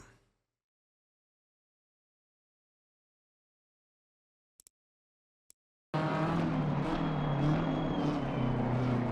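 BMW M4 GT3 race car in Assetto Corsa Competizione, its engine note bursting in loud and steady on a lap after a long silence and a couple of faint clicks, with a rising high whine over a dense low roar.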